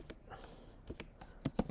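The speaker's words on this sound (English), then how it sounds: "or you can type in a search term" Keystrokes on a Mac computer keyboard as a search term is entered in a web browser, a scatter of soft taps followed by a louder cluster of quick key presses near the end, close and clear with no talking.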